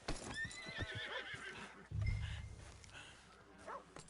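A horse whinnies loudly in Red Dead Redemption II, with clip-clopping hooves beneath it, then a heavy low thump and a second, shorter neigh toward the end.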